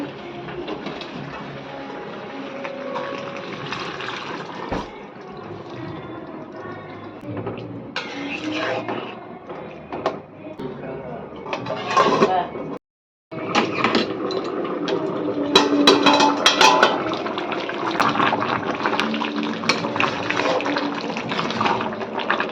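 Water being poured into a pan of sautéed pointed gourd and prawn curry: a continuous broadband gush and bubbling hiss at close range, with a brief dropout midway before the pouring noise resumes, louder and fuller.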